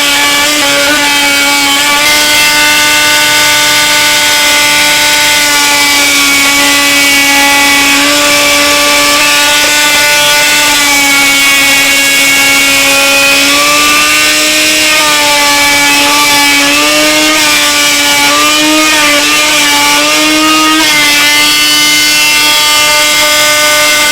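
A powered saw cuts exterior door threshold strips to size, giving a loud continuous motor whine that holds steady and sags in pitch as the blade bites, with no pauses across the stretch.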